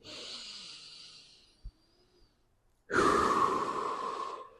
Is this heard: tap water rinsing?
no